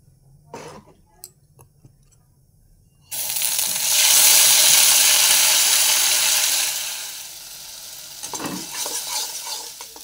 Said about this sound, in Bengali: বেশ ভাজা ভাজা হয়ে গেছে